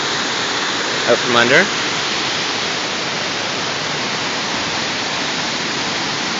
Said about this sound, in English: you can see the water is just pouring off of here. That's coming from below the road,